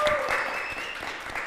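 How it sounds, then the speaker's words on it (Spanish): Brief applause from a studio audience welcoming a guest on a talk show, a moderate burst of clapping with a sustained musical tone and a voice over it. "vamos a aplaudirla."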